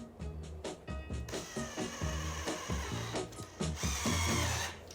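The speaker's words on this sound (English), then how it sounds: "Now we're just gonna screw these into place." Power drill driving screws into place while building a portable market display, with several short whirring bursts and pauses as each screw seats, loud and close.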